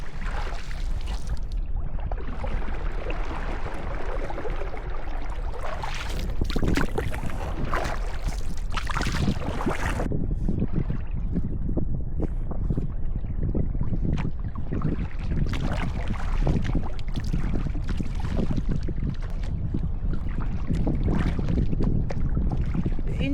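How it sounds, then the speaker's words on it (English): Kayak paddling with a cheap plastic paddle bought online, close water swishes and splashes repeating in a steady stroke rhythm over continuous wind noise across the microphone. "I've been paddling about 30 minutes with this."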